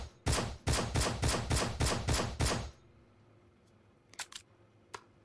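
Rapid gunfire from a newly found gun in the VR shooter Hardbullet: about eight loud, evenly spaced shots in quick succession, followed by quiet with a few small metallic clicks and handling noises.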